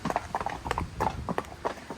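Horses' hooves clip-clop in a steady, uneven rhythm of close, distinct strikes on a farm ride, with no talk over them.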